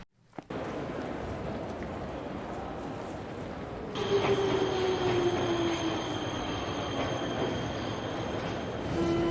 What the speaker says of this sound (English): The train arrives once.